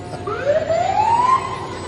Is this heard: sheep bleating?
no